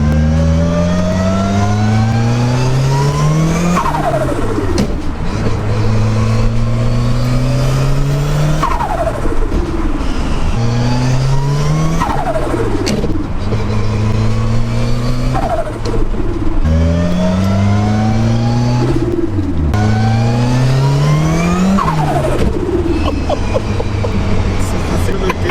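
Repeated loud revs from a Ford Fiesta RS fitted with an aftermarket exhaust system, each burst climbing in pitch and then dropping back. The revs come in a steady cycle roughly every four seconds, close to the microphone.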